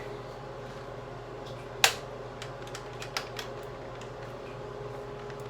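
One sharp plastic click from a Nerf Rival Finisher blaster mechanism snapping into place close by over a low steady hum, followed by a couple of fainter small clicks.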